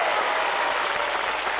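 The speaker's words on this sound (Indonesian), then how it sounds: "Tepuk tangan untuk Mbak Anggi dong." A studio audience on a family game show claps in a brief, dense burst of even applause, moderately loud and without a break.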